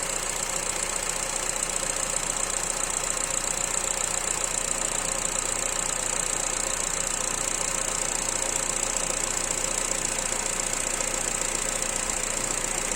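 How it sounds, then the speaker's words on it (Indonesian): A used car's engine idles steadily with a smooth, continuous hum and no knocking or metallic clashing, heard up close and alone throughout. "mobil yang normal akan memiliki putaran mesin yang stabil dan tidak ada suara aneh seperti besi yang beradu"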